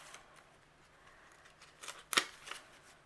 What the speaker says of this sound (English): Cut up some of the paper to make trims.